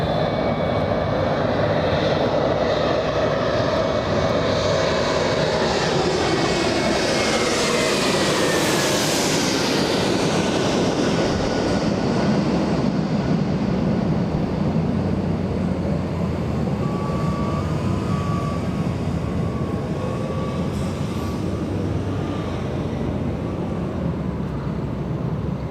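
Delta flight 997 from Orlando coming in to land at Los Angeles International Airport, a loud continuous jet roar that swells and sweeps in pitch as the airliner passes close overhead, then settles into a steady rumble.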